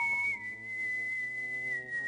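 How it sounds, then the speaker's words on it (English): A person whistles a steady, clear high tune close by, holding long tones with a few short note changes, alone over quiet background music from the 1998 game Thief. "you're going to hear a lot of whistling in this one, probably."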